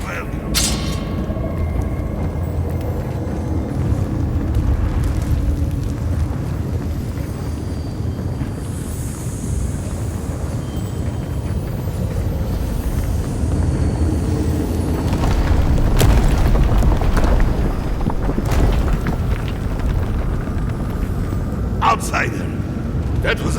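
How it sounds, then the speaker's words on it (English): A huge explosion in the fantasy video game Avowed rolls out as a deep, sustained booming rumble that fills the low end, with voices and game ambience layered over it. "That was a damn big explosion, wasn't it?"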